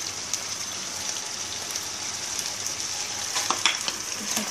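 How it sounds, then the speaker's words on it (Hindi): Garlic ginger paste frying in oil in a karahi for karahi chicken, a soft, even rain-like sizzle with faint crackles throughout, fairly quiet and steady. "लहसुन अदरक का पेस्ट डाल के भूनना है 1 मिनट और"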